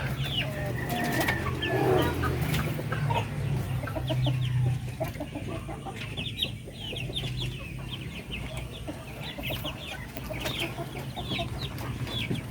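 Three-month-old Darag native chickens cluck and chatter steadily at feeding time, many birds close by in a busy flock with continuous background noise and no talking.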